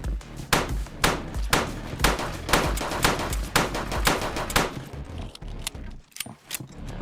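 Turret gunfire in the video game Shell Runner blasts in rapid, loud repeated bursts with heavy thuds, continuing for several seconds before tapering into scattered shots.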